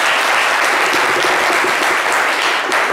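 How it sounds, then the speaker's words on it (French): A studio audience applauds a caller with a dense, steady burst of clapping that stays loud and even throughout, with no talk over it. "merci, on peut l'applaudir très très fort"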